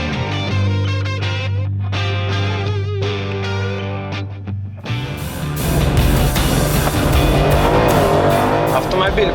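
An Audi Quattro with all-wheel drive and Toyo semi-slick tires revs with a distorted, droning engine tone, then launches into a loud, rough acceleration run down a drag strip while someone talks over it.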